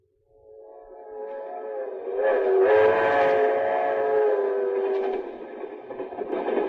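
A steam-era train whistle sounds in a long, wavering chord that swells to full strength, holds for several seconds and then eases, with rumbling train running noise underneath and no voices.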